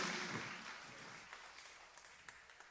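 A church congregation claps, a faint, dense burst at first that thins out into scattered, separate claps.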